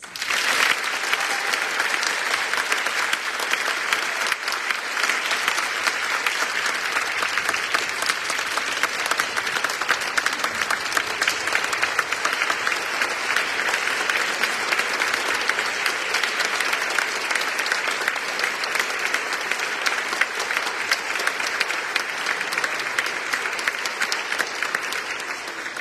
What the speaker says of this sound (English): Please join me in applauding all of our new members.